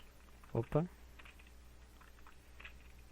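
Keystrokes on a computer keyboard while coding a Flutter app in VS Code: two quick, close clicking bursts early on, then only faint room noise.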